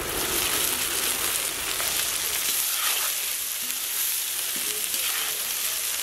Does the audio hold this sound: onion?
yes